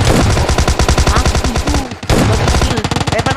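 Rapid automatic gunfire from a video game, loud bursts of shots in fast rhythmic volleys with a brief pause midway, continuing steadily to the end.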